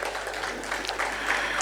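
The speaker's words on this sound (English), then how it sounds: "Can we have a round of applause for her, please?" Scattered audience applause at a real estate panel discussion, a short steady patter of claps welcoming a panelist to the stage, moderately distant and fairly even throughout.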